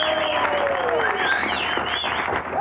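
A studio audience at a television program applauds, a steady dense patter of clapping held for a couple of seconds, with some voices mixed in.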